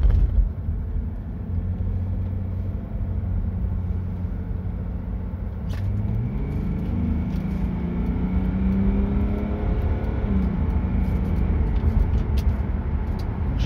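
A 2000 Mercedes E 320 CDI S210 Avant-garde diesel car holds a steady engine drone, then accelerates with a rising whir partway through. The drive is heard from inside the car, and no one talks.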